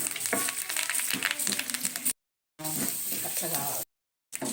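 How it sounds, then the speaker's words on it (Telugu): Urad dal sizzles in hot oil with cut chilies and chana dal as a tempering fries, a close, steady crackling sizzle broken by two brief silent cuts. "ఇప్పుడు ఒక స్పూను మినపప్పు. ఇవి ఎర్రగా వేగాలండి."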